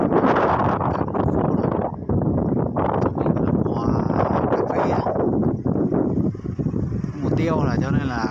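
Strong wind buffets the microphone at a wind power construction site in Đăk Song, making a constant rumbling roar that dips only briefly. Someone talks over it throughout.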